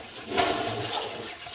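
A toilet packed with a wad of toilet paper flushes in one close, rushing surge of water that swells and then settles into steady swirling and draining, with no talking.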